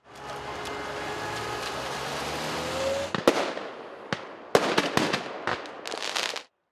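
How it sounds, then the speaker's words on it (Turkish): Fireworks thrown by protesters at police during a road-blocking demonstration near a university in Ankara, heard as a dense crackling barrage followed by a string of sharp, loud bangs and pops at irregular intervals. "Bir grup eylemci Eskişehir yolunu kapatarak polise taş ve havai fişek attı."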